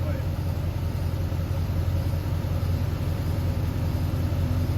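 An LS-swapped Squarebody truck engine runs at a steady, deep rumbling idle nearby, with people talking over it throughout.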